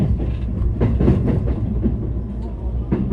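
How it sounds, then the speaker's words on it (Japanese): A JR Yokohama Line commuter train departing Hachioji station rumbles and clatters along the rails, a steady rolling drone with rhythmic clicks, heard from nearby. "ちょうど横浜線の電車が出発していきました。"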